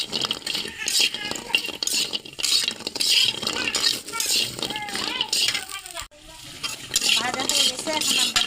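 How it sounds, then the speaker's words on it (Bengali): Lentil dumplings (bori) fry in oil in a kadai with a loud, busy sizzle and repeated scraping and clattering of a spoon, while a person talks over it. "এই যে বড়িটা আমরা তেলে একটু ভেজে নিব, একটু লাল করে।"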